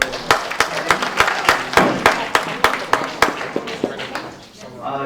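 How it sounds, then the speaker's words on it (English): Scattered clapping from a small group at an adjunct faculty meeting, a run of distinct sharp hand claps that thins out toward the end, fairly close with some room murmur underneath. "Okay, let's give them a round of applause."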